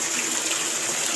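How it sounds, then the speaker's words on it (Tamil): Water gushes steadily from the outlet of a BLDC solar pump installation, a continuous broadband rush with no pauses across the short stretch, fairly loud and close, with no talking over it. "தண்ணியில் வருது, தண்ணியில் வருதா?"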